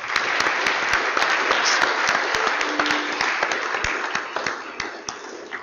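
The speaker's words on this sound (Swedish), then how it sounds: "Vi ger alla en varm applåd igen." Warm audience applause at a church conversation event with prospective church leaders, a full crowd of hands clapping steadily with some individual sharp claps standing out, gradually thinning toward the end.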